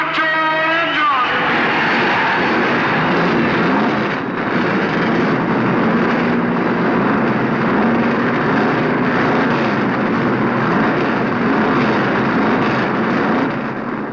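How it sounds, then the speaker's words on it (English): Forty NASCAR stock cars, Dodges and Fords among them, roar to life together at the 1970 Southern 500, a dense continuous wall of engine noise mixed with crowd cheering, loud and sustained throughout. "The engines and the crowd come alive together."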